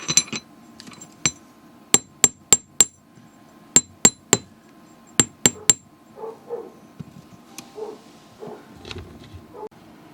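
Hammer striking wire for a beaded bracelet, sharp metallic taps in uneven bursts of two to four, close and crisp, followed by quieter handling noises and a soft voice.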